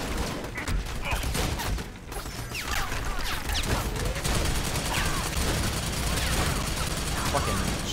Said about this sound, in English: Fucking chain gun is bullshit